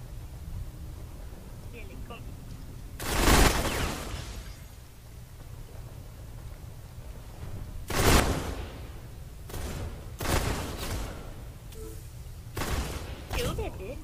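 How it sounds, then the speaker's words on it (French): Gunfire bursts in the Metro video game come as several loud rapid volleys spaced a few seconds apart, over a low rumbling background with occasional voices. "je distribue des rafales, il y en a qu'une sur trois qui touche"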